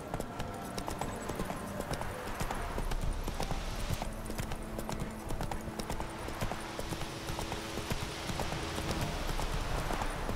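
Roach the horse trotting in The Witcher 3, hooves clip-clopping in a brisk, even pattern over a busy game backdrop of ambient noise, steady for the whole span with no talk.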